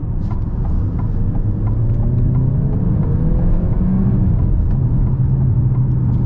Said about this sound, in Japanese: じゃあ全開加速行ってみましょう。